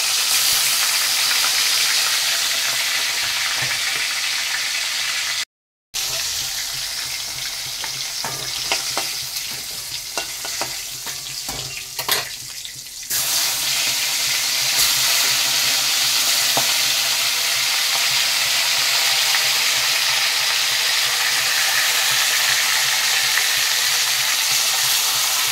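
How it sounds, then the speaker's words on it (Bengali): Desi magur catfish sizzles steadily in hot oil in a pan for a Bengali rosa curry, a dense continuous crackle with a brief silent break early on and occasional stirring clinks, with no talking. "আর বাকি মাছগুলো একইভাবে ভেজে নেব"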